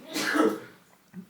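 A single sneeze, close and fairly loud, followed by a brief pause and a faint breathy sound.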